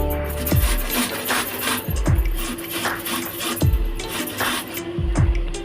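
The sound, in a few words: grating raw mango on a grater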